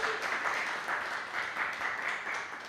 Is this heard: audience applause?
yes